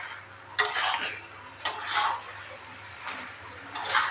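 A spoon stirring and scraping a pan while food sautés in a little Amul butter, several clinking, scraping strokes close up over a faint sizzle.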